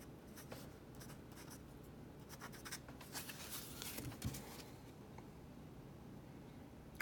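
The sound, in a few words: Lamy LX fountain pen writing on paper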